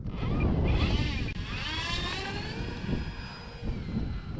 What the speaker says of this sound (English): Gonna do a grass takeoff.